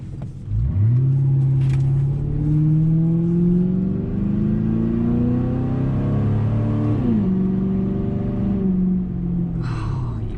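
A Mercury Grand Marquis with a 4.6 V8 and its muffler deleted pulls away on a drive, the loud raw exhaust drone rising through the gears with a shift near the middle, then easing off.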